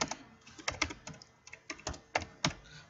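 Someone types on a computer keyboard into a search bar: a quick, irregular run of close, crisp keystrokes with small pauses between bursts.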